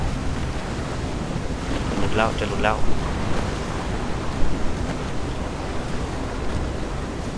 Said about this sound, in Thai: โอ้ยหลบเร็วหลบหลบจากคลื่นพายุก่อน